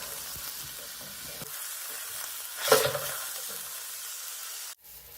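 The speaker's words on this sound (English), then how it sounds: "They'll just go right into my pan, completely frozen, and I'm gonna heat them through." Frozen turkey burgers sizzle in a pan, a steady close frying hiss with a brief louder scrape or stir midway, then cutting off abruptly near the end.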